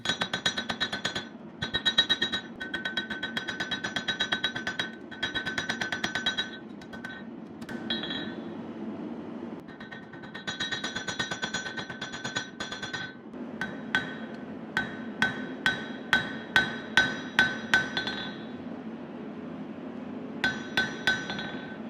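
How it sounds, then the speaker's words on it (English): Hammer forging the bevels of a knife blade: runs of rapid ringing metallic hammer blows on hot steel, with pauses, then slower, more spaced strikes near the end, loud and close. "After forging the preform, we'll get busy on the bevels, the sharp bits of the blade."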